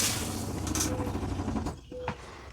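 Household water pump running normally with a faucet open, a steady low rumbling hum with some clatter, fairly quiet and unbroken by speech.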